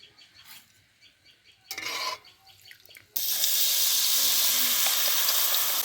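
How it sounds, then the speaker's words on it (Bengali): Boondi, drops of gram flour batter, frying in hot oil for laddu, a steady loud sizzle that swells and fills the pan after quieter scraping and stirring at the start. "সবগুলো একে একে ভেজে নিচ্ছি আর আমার ভাজতে মাত্র পাঁচ মিনিট করে লাগছে"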